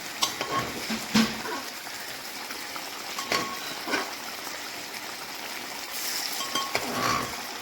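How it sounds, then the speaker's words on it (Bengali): Pressure-cooked mixed vegetables are poured into a frying pan over spices and poppy-seed paste, giving an uneven sizzle with splashy pours, light stirring and a few metal clinks, all fairly soft. "এখানে সব সবজিগুলো আমি একটা সিটি দিয়েছিলাম, সেটা ঢেলে দিচ্ছি।"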